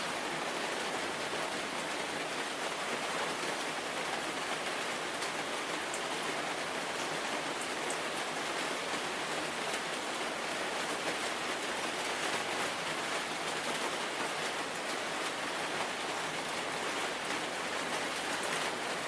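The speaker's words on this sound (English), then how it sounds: "Yeah, I can wait here in the rain." Steady, dense rain pours down without a break, a continuous hiss that stays loud and even throughout with no voices over it.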